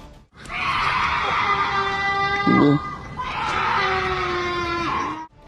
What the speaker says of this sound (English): many have said that the source of the sounds is only a mountain lion